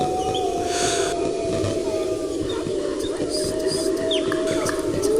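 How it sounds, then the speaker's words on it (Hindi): A jackal howls far off in a windy bamboo forest at night, a long drawn-out wavering tone that holds steady over a constant rush of wind and rustling, faint but continuous. "दूर से सियार की एक सी आवाज सुनकर मैं अचानक चौंक गए।"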